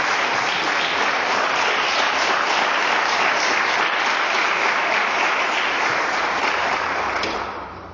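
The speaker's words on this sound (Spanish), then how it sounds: "Fuerte el aplauso al Señor." Sustained applause from a church congregation during a worship service, a dense steady wash of clapping that holds loud for about seven seconds and then tapers off at the end.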